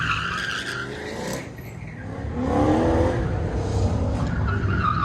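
A 1972 Corvette races at a Goodguys autocross in Pleasanton, its tires squealing and skidding over a loud engine roar that swells midway, heard from trackside.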